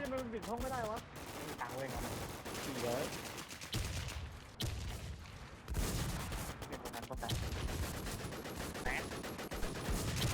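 Steady bursts of gunfire and rapid shots in the online zombie shooter WarZ, loud and continuous for several seconds with a voice talking over parts of it.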